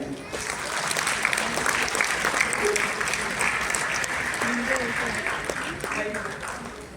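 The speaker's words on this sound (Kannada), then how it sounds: "ಸೂಪರ್ ಚಪ್ಪಾಳೆ ತರ್ತಾ ಇದ್ದೀರ" An audience at a film critics awards ceremony claps together in sustained, steady applause that fills the room for several seconds before tapering slightly.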